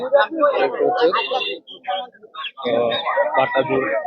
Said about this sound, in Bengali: এই যে এদিকে দেখেন আরো মুরগি মুরগি রয়েছে